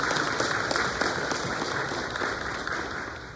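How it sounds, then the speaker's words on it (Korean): A church congregation claps together in a dense, sustained round of applause, steady and fairly close, with no talking over it. "먼저 우리 좀 하나님께 모든 영광의 박수를 좀 올려드리고 싶습니다."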